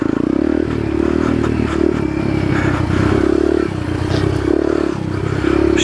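A Yamaha TTR 125 dirt bike rides a trail with a loud, close engine drone that rises and falls as the throttle opens and eases, plus clattering and scraping from the ground.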